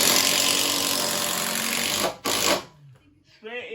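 A power drill drives a 4-inch screw into a board in a bathroom job, a loud, close, sustained whirring grind that cuts off abruptly, followed by someone speaking.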